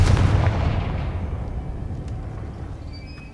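A single booming blast from the Confringo spell in Hogwarts Legacy, loud at the start and trailing off in a long rumbling decay with faint magical chimes.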